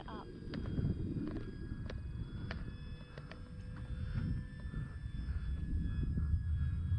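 An E-flite F4U Corsair 1.2m RC model airplane takes off with no flaps, its electric motor a steady drone under outdoor ambience, with a few sharp clicks mixed in.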